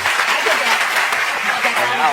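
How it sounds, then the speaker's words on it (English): Studio audience at a television talk show breaking into applause, a dense, continuous wash of clapping heard up close, with voices faintly mixed in. "Now you're gonna clap for it."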